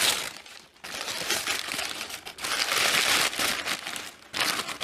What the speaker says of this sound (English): Hopefully you guys can hear me over the rustling.